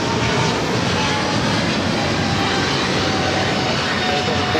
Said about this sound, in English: All right, so the 777 freighter now taking off